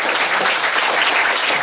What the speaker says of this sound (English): So I'd love to give a big round of applause to John